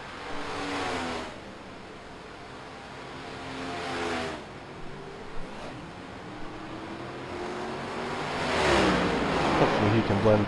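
Race car engines in an iRacing NASCAR Next Gen race at Kansas during a pit stop, with revving and passing cars rising and falling under steady commentary, swelling louder near the end.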